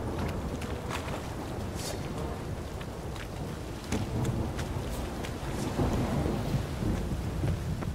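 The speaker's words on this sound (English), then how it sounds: "storm, damn it." Steady heavy rain with rolling thunder rumbles in a thunderstorm from the video game The Witcher 3, continuous and dense throughout with no talk.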